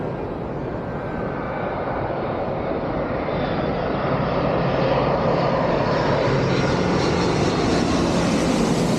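A low-landing aircraft at London Heathrow airport roars loudly and continuously, its engine noise building and sweeping past close by, with no voices heard.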